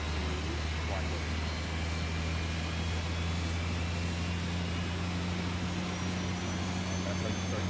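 Steady aircraft engine hum from a helicopter in the Project Longbow video game, a constant drone with strong low tonal bands and broad hiss running evenly throughout, with no break.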